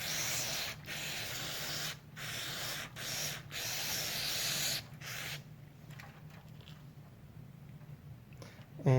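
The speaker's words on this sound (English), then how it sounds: "For the carburetor itself, I'm going to start just by spraying out the body here." Carburetor cleaner sprayed in bursts through the body of a Briggs and Stratton 799866 carburetor: loud, close hissing blasts broken by short pauses, then a quieter stretch of fainter spraying with a soft rub.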